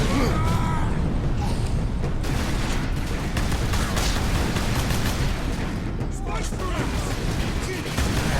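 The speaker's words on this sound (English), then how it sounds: "Stop with the shooting of the me. That is not friendly." Enemy gunfire rattles in Warhammer 40K: Space Marine, a dense, continuous barrage of shots and impacts that stays loud throughout, with a voice speaking over the combat.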